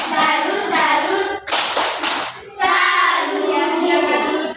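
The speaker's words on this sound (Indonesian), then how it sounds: "kita tepuk salut dulu untuk kelompok 1" Class of students in Indonesia doing rhythmic 'tepuk salut' group clapping, a short burst of many hands clapping together between stretches of children chanting in unison.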